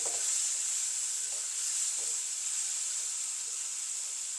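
Spices with turmeric sizzle and hiss in a hot pan during a tamarind curry preparation, a steady frying sizzle with a few faint stirring scrapes, moderately quiet and without speech.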